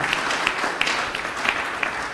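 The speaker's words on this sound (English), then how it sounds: "Yes, please clap for them." A crowd applauds with dense, steady clapping throughout, moderately loud and continuous.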